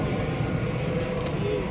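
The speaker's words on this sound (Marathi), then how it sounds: "प्लेन पण जात आहे।" Airplane passing overhead near the Qutub Minar in Delhi in the evening, a steady broad engine roar that holds evenly throughout with no talk.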